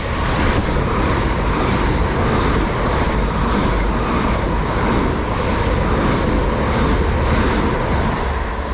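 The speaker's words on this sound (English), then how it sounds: "passing through now, we've got a set of 375s coming through to London Charing Cross" A set of Class 375 electric trains bound for London Charing Cross rushes through a Kent station platform, a loud continuous roar of wheels and air close by with no talking.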